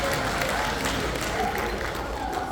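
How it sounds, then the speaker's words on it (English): Audience applause for a volunteer team at a VBS event, a dense continuous wash of many hands clapping together, loud and steady throughout with some crowd murmur mixed in. "So give them a round of applause."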